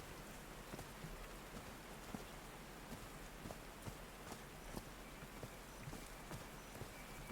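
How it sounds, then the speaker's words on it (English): Steady rain patters across the ground in the video game Call of the Sea, a soft, dense hiss with scattered drop ticks and occasional footstep-like taps, faint and without talk. "The way the rain changes."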